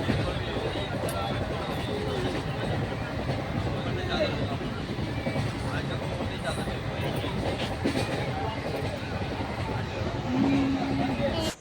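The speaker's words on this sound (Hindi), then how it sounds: "और अभी मैं ट्रेन में हूँ" Train interior noise from a moving passenger train: a steady broadband rumble with rattling runs throughout, with no speech over it and a brief tonal hum near the end.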